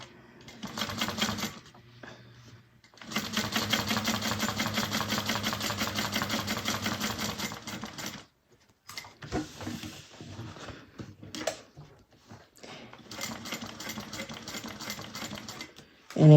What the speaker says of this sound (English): I'm going to sew around the zipper overlay.